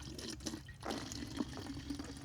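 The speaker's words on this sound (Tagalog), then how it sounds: "Tubig, punuin lang po natin to." Water pours and splashes into a container nearby, a gurgling fill with small drips and sloshes, no talking.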